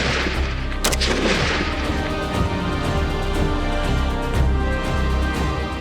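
Army rifle rounds fired at targets from 100 metres during military training: a loud, continuous stretch of sharp cracks and booms with dense overlapping reports and no audible talk.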